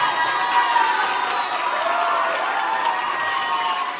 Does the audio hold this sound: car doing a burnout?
no